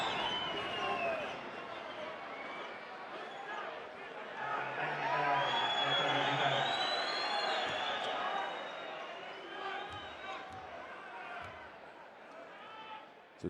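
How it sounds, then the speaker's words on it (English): Basketball arena crowd during a Champions League game between Baxi Manresa and Türk Telekom, roaring and jeering at the referees after a foul call, a loud sustained mass of voices with whistles and shouts, a commentator talking over it. "And now the crowd really riding the referees"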